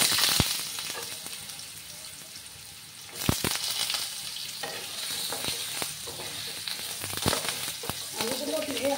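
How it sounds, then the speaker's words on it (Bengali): Potatoes dropped into a pan of hot oil with black cumin over low gas flame: a sharp burst of sizzling, then steady frying with several clattering stirs, close and fairly loud. "আলুগুলো দিয়ে আমি 2 মিনিটের মতো একটু আলুগুলোকে ভেজে নেব।"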